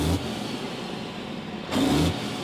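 Racing truck engine revving with the throttle pressed to the floor, a loud steady roar that surges again near the end, close by with no talk.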